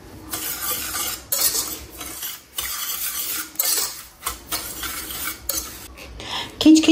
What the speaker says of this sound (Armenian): մի փոքր խառնում եմ